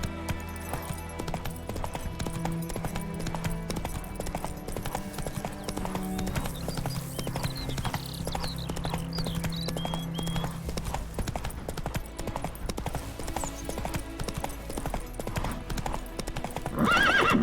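Roach the horse in The Witcher 3 video game gallops with steady, continuous clip-clop hoofbeats and lets out whinnying neighs, set over a dense bed of game music and ambience.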